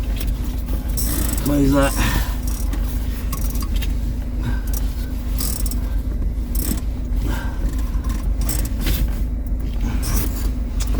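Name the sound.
motorhome engine starting and driving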